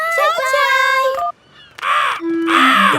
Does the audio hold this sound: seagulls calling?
yes